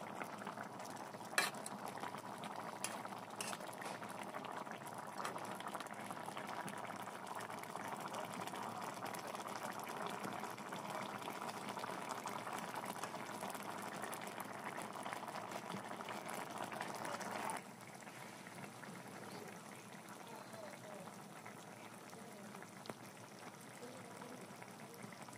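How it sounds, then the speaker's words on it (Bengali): Fish and bean seed curry (shing fish with shim seeds) simmering in a pot, a continuous close bubbling boil with occasional pops, steady for most of the stretch and then slightly quieter toward the end, with no talking. "এরপর প্রায় 20 মিনিটের জন্য সিদ্ধ হতে দিতে হবে।"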